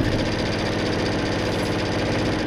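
A sewing machine stitching quilt pieces for a diamond ripple quilt, a close, steady rapid mechanical whir with even repeating needle beats, running continuously without pause.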